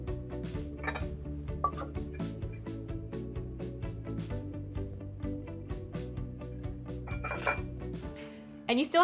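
A bowl is handled while powdered sugar is added, giving a rapid series of light clinks and taps of dishes and utensils, close and fairly loud, with a faint voice underneath.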